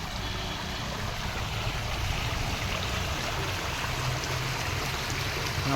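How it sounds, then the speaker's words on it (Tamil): Rainwater rushes and gurgles steadily in a continuous, fairly loud flow with no pauses, streaming along the ground into a banana grove. "தண்ணி வாழை வாழைக்காட்டுக்கு எப்படி போயிட்டுருக்குன்னு பாருங்கள்"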